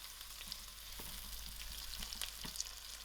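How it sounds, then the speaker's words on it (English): Whole cumin seeds crackling and sizzling in hot oil, a steady fine hiss with scattered small pops and a few soft stirring clicks, close and moderately loud with no talking. "First I'll put in my whole jeera and allow it"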